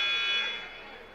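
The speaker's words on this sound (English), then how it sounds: "The buzzer goes off" A steady electronic buzzer drones over loud crowd noise in a large hall at a basketball game, then gradually fades.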